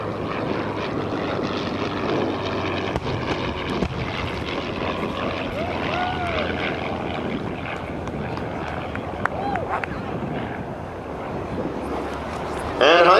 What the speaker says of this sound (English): Here comes the Spitfire.